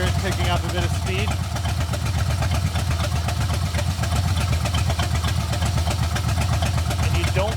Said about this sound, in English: So you just let it idle.